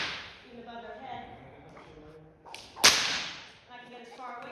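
A single sharp whip crack snaps out loud and close, standing alone between stretches of a person talking before and after it.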